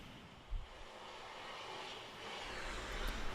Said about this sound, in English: So we have a jet dryer who is behind the scoring pylon right now.